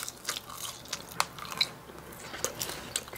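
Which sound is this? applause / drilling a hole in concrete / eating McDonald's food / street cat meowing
eating McDonald's food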